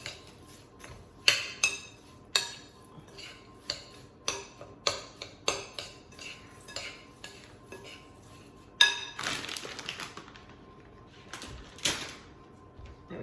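Homemade granola being mixed in a bowl: a string of sharp clinks and scrapes of a utensil against the dish, spaced irregularly at close range, growing busier and denser near the end, with no talking.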